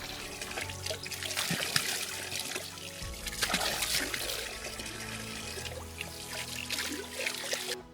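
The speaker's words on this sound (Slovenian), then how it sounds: "In tukaj se bom pa zdaj vodne zaloge napolnil." Water from a mountain spring trickles and splashes steadily near the high alpine lakes below Križ and Stenar, a close, continuous flow with a low hum in the background.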